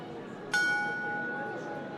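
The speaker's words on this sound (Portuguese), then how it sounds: "Essas badaladas marcam uma hora que já não existe mais" A single bell strikes once with a sharp metallic onset, leaving a clear sustained ringing tone that slowly fades over a soft background hiss.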